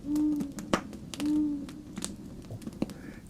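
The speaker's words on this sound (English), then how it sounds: "Every so often, cutting through that snowy silence, came the soft hoot of an owl." An owl gives two soft, low, steady hoots beyond the neighboring cabins at the tree line, set against snowy quiet with faint crackles and light clicks between them.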